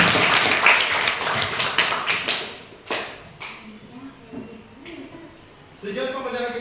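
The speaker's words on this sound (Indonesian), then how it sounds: "Berikan aplaus untuk kita semua" Clapping from a classroom audience during a lesson, a dense patter of hands for nearly three seconds that fades into quieter room noise and scattered sounds, with a voice talking near the end.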